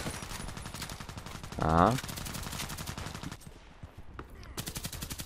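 Rapid, dense gunfire from a shotgun in the shooter game Contract Wars, repeating steadily for several seconds with a short voice cutting in near the middle and a brief lull before firing resumes.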